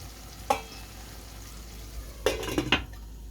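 Lid set onto a pot of beef stewing with tomatoes, a sharp metallic clank followed by a brief cluster of rattling knocks as the lid settles, close and alone over a faint background hiss.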